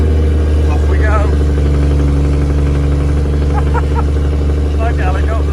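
A tractor engine drones loud and steady while towing a grain trailer, a constant low rumble heard from inside the cab with people talking intermittently over it.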